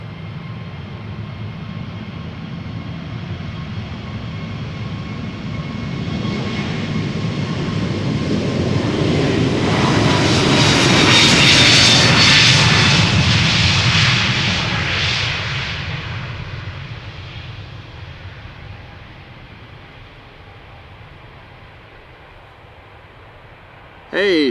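A JetBlue jet roars down the runway on takeoff at Amsterdam Schiphol, bound for Boston, swelling from a distant rumble to a loud, close peak near midway before fading off, with a voice speaking briefly.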